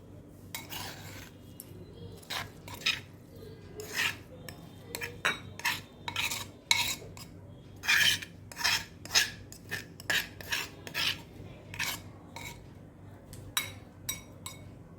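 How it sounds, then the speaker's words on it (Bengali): A bamboo shoot mash with shrimp and turmeric flowers is scraped out into a serving bowl: a rapid series of sharp metal spoon clinks and scrapes against the dish, close and with no voices. "এবার আমি একটা সার্ভিং বলে ঢেলে নেব।"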